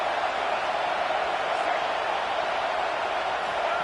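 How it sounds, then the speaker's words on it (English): Large crowd at a UCLA versus Oregon college football game in a stadium, a dense continuous roar that holds steady and loud throughout, with no clear single voices standing out. "this crowd is turning it up a notch"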